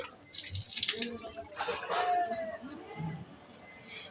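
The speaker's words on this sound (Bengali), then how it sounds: "দেখো জলটা ভরে নিচ্ছি" Tap water runs and splashes into a bottle in a Bengali home, filled for a grandmother, in two bursts of rushing flow amid household noise, with people talking over it.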